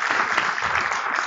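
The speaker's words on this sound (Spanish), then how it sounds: "Un aplauso para el médico." An audience in a university business meeting applauds a doctor in the room, a dense, steady wash of many hands clapping at close range that carries on without a break.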